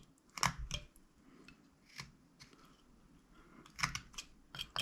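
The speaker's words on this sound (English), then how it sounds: "Stop cut, just cut up to it." A knife making stop cuts while whittling a small wooden figure: a few sharp, close clicks and crisp slicing snaps, spaced irregularly over a quiet background.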